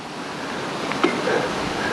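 Water from a man-made channel draining old mines and quarries in Cornwall, a steady broadband rush heard close by with a faint surge near the middle, and no talking.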